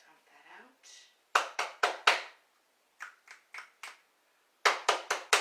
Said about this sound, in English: Almost have some clap snaps back in my puffy hands.